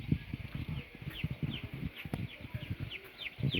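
Baby chickens in a pen cluck and chirp softly in a steady chorus while drinking water, with faint rustling and low thumps throughout, fairly close but quiet.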